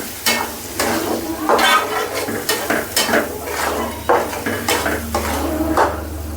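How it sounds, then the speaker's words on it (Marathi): Masala roasts in a pan for a Kolhapuri mutton curry while a spoon stirs and scrapes against the metal in repeated strokes, close and fairly loud over a sizzle, with no voices. "आपण मसाला चांगला भाजून घेऊया"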